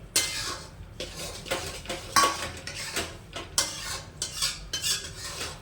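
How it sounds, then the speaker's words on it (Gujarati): Almonds are stirred into a hot masala mixture in a metal pan, the spoon scraping and clinking in repeated close strokes at a steady rhythm, with no talk. "આ બદામ પણ નાખી દઉં છું સાથે સાથે એકદમ રીતે મિક્સ હલાવી લઉં છું"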